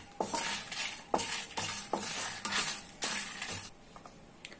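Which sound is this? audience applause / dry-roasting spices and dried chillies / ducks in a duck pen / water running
dry-roasting spices and dried chillies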